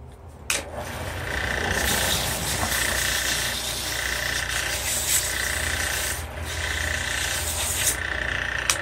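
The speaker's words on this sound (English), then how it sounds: "And I'm going to do that with the parting tool." A parting tool rasps against a spinning wooden tool handle on a lathe, giving a steady scraping, rubbing cut with brief pauses and changes in pressure, close and fairly loud.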